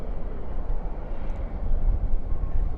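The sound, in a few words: Sun Country airliner landing at DFW, thrust reversers deployed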